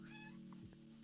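A desk chair creaks with a short, whiny, meow-like squeak over a steady low hum, followed by a brief sharper squeal near the end, close and fairly quiet.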